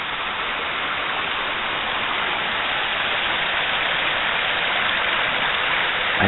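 Water rushes and echoes through the narrow rock gorge at Parfrey's Glen, a steady, dense wash of noise with no breaks, loud and continuous throughout.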